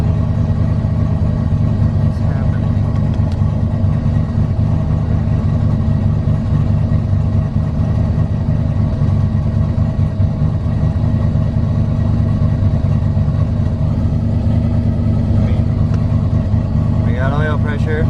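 A turbocharged Ford Fairmont engine idles steadily in cold weather, a close, continuous low rumble with an even pulse throughout and faint clicks and shifts near the end.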